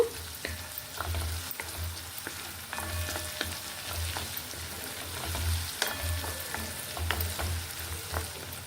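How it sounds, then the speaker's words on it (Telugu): Ginger fries in a pan for ginger chutney while being stirred, a soft, steady sizzle broken by repeated scraping strokes and small clinks from the utensil, close and fairly quiet. "ఇంకా కొంచెం వేగాలండి, కొంచెం కలర్ రావాలి అల్లం."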